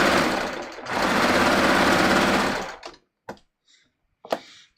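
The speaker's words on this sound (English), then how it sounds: "I'm going to just run my serger along the edge." A serger overlocker runs along the edge of knit fabric in a steady, loud mechanical whir for about two seconds, then stops, followed by a few brief clicks and taps.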